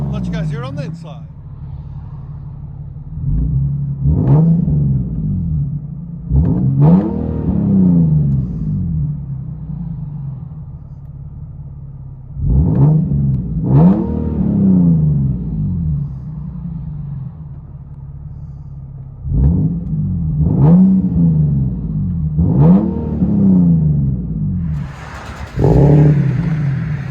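A 2010 Infiniti G37x with a 3.7L V6 and true dual exhaust with Vibrant resonators, heard from inside the cabin, revs repeatedly in loud rising and falling bursts over a deep idle rumble.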